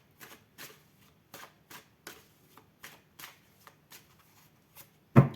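Tarot cards are shuffled and drawn in a quiet room: a regular run of short, soft riffling bursts, closing with one sharper, louder slap as a card is set down.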